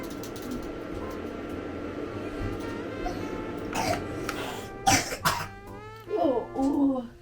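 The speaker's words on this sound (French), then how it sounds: "Tu tousses?" A few short coughs from a child close by, followed by soft vocal sounds over a quiet room hum.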